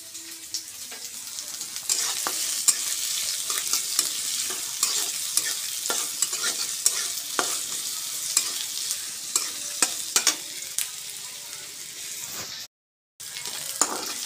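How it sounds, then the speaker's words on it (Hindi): Onions for samosa filling fry in a pan with a constant bright sizzle, broken by repeated scraping strokes of a stirring spoon. The sound drops out briefly near the end. "प्याज अभी लाल हो रहा है, थोड़ा सा और बचा है।"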